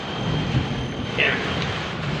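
Thunder rolls through a heavy rainstorm, a brief dull rumble over a constant hiss of pouring rain, fairly close and loud.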